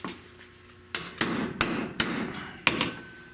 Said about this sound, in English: I just had to use my palm and beat this around